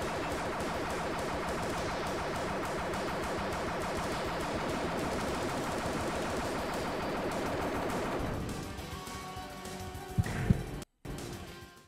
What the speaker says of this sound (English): I'm just focusing on trying to dodge these shots.